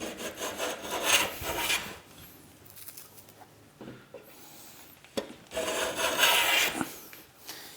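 A Veritas low-angle block plane is pushed across wood, with the front and rear knobs fitted. Two long, close rasping strokes stand out, each a sustained broadband shave, separated by quieter handling noises and small knocks.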